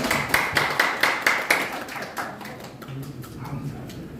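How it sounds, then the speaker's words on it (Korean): Rhythmic clapping from a small group at a political forum, evenly spaced and fairly close, gradually thinning out and fading as a murmur of voices continues underneath. "한참 박수."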